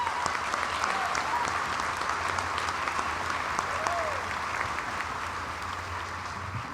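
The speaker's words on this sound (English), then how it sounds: "Let's give them a round of applause." Sustained applause from a large audience at a college commencement ceremony, a dense, even wash of clapping that continues steadily, with a faint voice or two underneath.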